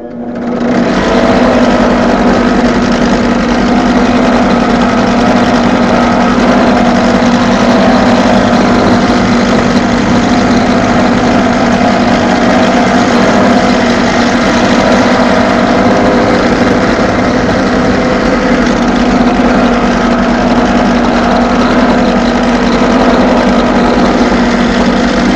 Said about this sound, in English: if you can get your rod into the drill press, it becomes a whole lot easier